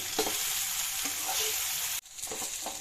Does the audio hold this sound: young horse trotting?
no